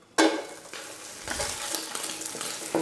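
Chinese sausage sautéing in hot oil for pancit canton gives a sudden burst of sizzle, then a steady frying hiss with occasional stirring scrapes, fairly close and moderately loud.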